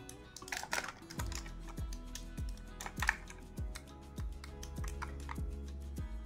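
Typing on a compact wireless Gembird KBW 7 mechanical keyboard with Outemu blue switches: steady, crisp clicky keystrokes at an even pace, close and alone.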